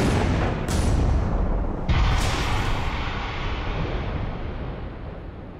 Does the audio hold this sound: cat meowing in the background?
no